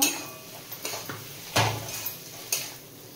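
Fried potatoes are stirred into rui fish masala in a pan. A utensil makes a few sharp clanks and scrapes against the metal, with quieter scraping between the louder hits.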